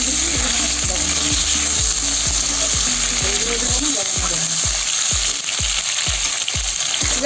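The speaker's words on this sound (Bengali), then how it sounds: "এই যে আমার বেগুন কটা ভাজা হয়ে গেছে এখন আমি বেগুন কটাও নামাই নেব" Cut brinjal pieces fry in hot oil in a pan, making a loud continuous sizzle with a string of rhythmic clacks from a spatula stirring close up, and no talking.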